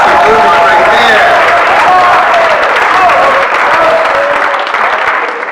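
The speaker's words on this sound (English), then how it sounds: "we got to make sure we give a round of applause as they make their way up here" Awards-ceremony audience applauding steadily throughout, a dense wash of many hands clapping at close range, fading slightly at the end.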